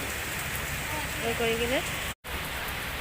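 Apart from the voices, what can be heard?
heavy rain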